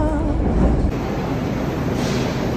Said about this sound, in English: this is Russian subway